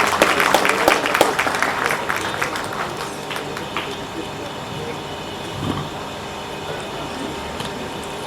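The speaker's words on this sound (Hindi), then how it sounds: "जोरदार तालियों से इस्तकबाल कीजिए।" Loud crowd clapping at a postage stamp release ceremony fills the opening seconds, then fades into a low murmur of room noise and scattered sounds.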